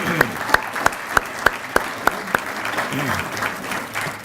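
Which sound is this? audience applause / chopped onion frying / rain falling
audience applause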